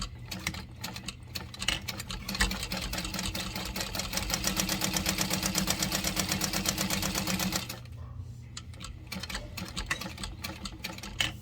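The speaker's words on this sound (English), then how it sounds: "we'll top stitch across that bottom edge" A sewing machine top stitches along the bottom edge of a garment at a 5.5 stitch length, running steadily for about five seconds at close range, with softer handling and short bursts of stitching before and after.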